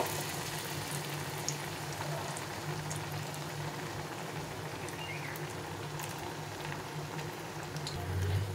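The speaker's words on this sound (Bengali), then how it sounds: "তো এইভাবে করে আমি সবগুলোকে ভেজে নেব" Pumpkin fritters deep-fry in oil with a steady, dense bubbling sizzle that carries on without break. It sounds close and even, with no voices over it.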